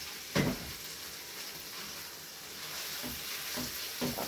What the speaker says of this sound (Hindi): अब इसको जो अच्छी तरह से भून लेते हैं अनियन गार्लिक के साथ।